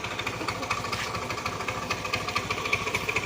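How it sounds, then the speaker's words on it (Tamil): A motorcycle engine is revved with the clutch apparently failing so the bike won't move, giving a steady, close, rough mid-pitched drone with a rapid pulsing beat. "வண்டி ரைஸ் ஆகுது ஒரு இன்ச்சு கூட நவர மாட்டேங்குது"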